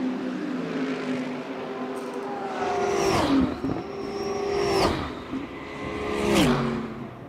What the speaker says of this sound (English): Sights and sounds of modern GT racing